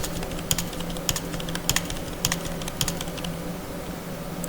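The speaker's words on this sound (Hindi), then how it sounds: "आप एंटर दबा के कर सकते हैं या फिर डाउन एरो की दबा के भी कर सकते हैं" Computer keys are tapped while entering marks into an Excel spreadsheet, a close series of quick irregular clicks and clacks over a faint steady hum, with no voices.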